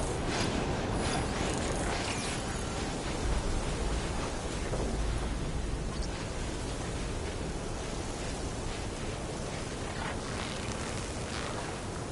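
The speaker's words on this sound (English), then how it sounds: "Oh, the storm's whipped up a sand spiral." A desert storm in the video game Horizon Forbidden West, whipping up a sand spiral, gives a dense, steady roar of wind-blown noise with low rumbling, constant and loud for the whole stretch, no voices.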